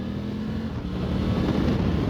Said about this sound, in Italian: è molto bello questo motore